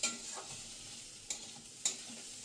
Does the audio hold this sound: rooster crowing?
no